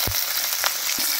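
Cauliflower florets frying in hot oil for vegetable chowmein, a steady close sizzle and crackle with a few faint knocks of a spatula against the pan, no voices.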